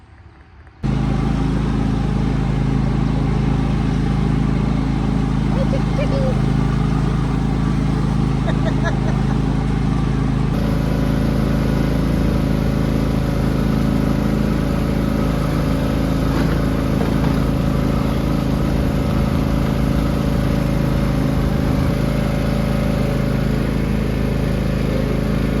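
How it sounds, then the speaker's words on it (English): A car ride with loud, steady low road rumble and tire noise filling the whole stretch after a quiet start, a voice talking over it throughout. "apologize in advance for the road noise"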